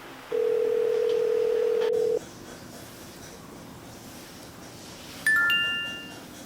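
A telephone sounds with an incoming call: a steady electronic tone holds for about two seconds, then a brighter beeping tone follows after a pause, with quiet room hiss between them.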